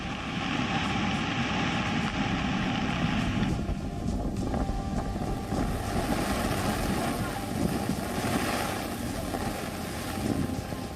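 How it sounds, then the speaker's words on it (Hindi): Strong sea waves and gusting wind during Cyclone Tauktae make a loud, unbroken roar that fills the whole stretch, with rushing surges and no clear pauses. "ये तस्वीर उस वक्त की है जब समंदर में तेज लहरें उठ रही थी। तूफान चरम पर था।"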